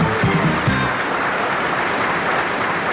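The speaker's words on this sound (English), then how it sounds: "With a gigantic round of applause as we begin the show" A crowd breaks into loud, steady applause that fills the space, with a brief burst of cheering voices at the start, at a 1988 company centennial celebration in Millville, New Jersey.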